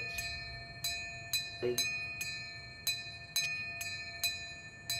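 A video-game bell rings repeatedly in an even rhythm, bright and metallic with a lingering tone under each strike, while a voice speaks briefly over it.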